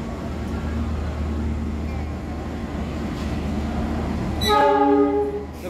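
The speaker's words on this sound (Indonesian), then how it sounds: "Masuk jalur 3 dari arah barat kereta api Jayabaya" The Jayabaya passenger train, hauled by a CC 206 diesel locomotive, rumbles into a station with low, continuous engine noise, then a loud horn blasts near the end, with people talking in the background.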